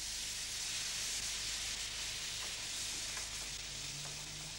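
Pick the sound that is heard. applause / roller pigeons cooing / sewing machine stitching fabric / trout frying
trout frying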